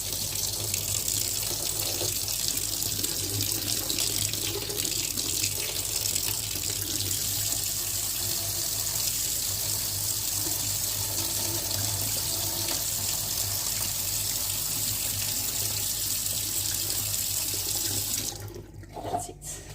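Warm water runs steadily from a kitchen tap for a stew with mushrooms, a continuous loud splashing hiss that holds for nearly the whole stretch before cutting off near the end, with no talking.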